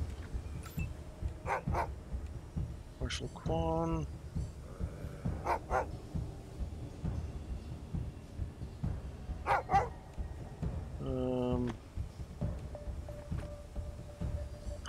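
Dogs in the video game Wasteland 3 whimpering and yelping in short, repeated bursts amid faint combat sounds, with a brief spoken line.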